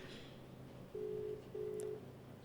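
An outgoing phone call rings back to a friend, two steady mid-pitched ringback tones sounding one after the other, faint over a quiet room.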